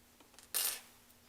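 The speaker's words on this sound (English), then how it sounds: "I just tap that gently with the plastic tip of my screwdriver to start moving the shaft." A plastic screwdriver tip gives a single sharp, bright tap against the metal shaft of an Ilco Model 008 key-cutting machine, close and quick, ringing briefly before fading amid faint lighter clicks.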